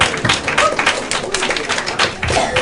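Thin, scattered clapping from a high school poetry slam audience, a handful of separate uneven claps tapping out irregularly, fairly close and sparse rather than a full round.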